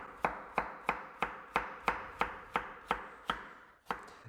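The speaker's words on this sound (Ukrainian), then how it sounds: "До нашого гуляшу додамо також моркву. Я буду нарізати довільними шматками ось такими." A knife chops carrots into rough chunks for a pork goulash, about eleven crisp, evenly spaced strikes on a cutting surface, close and clear, with no talking.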